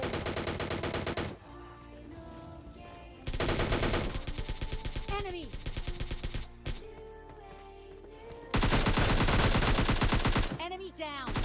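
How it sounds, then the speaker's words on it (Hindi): Bursts of DP machine gun fire from PUBG Mobile Lite, rapid loud volleys alternating with quieter stretches of distant shots and other game sounds, ending in another long burst. "एक बंदा डीपी से फायर करता है"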